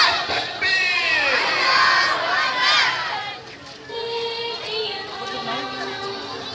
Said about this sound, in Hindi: भरपूर नारा लगा दे, नारे तकबीर, नारे तकबीर, नारे तकबीर।